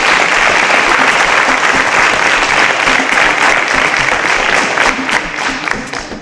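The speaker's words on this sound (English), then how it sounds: "A round of applause as all our contestants got it right." A quiz-show studio audience applauds steadily, dense clapping that holds for several seconds before starting to thin out at the end.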